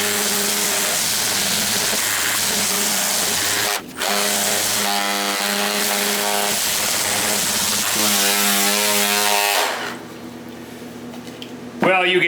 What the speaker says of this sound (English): let's sand her off